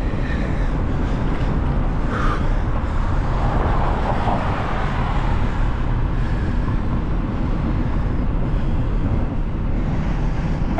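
Traffic on Tremont Street in Boston between Roxbury Crossing and Fenway, heard from a bicycle riding in the lane with the cars: a steady, close rumble of passing vehicles blended with loud wind buffeting the microphone.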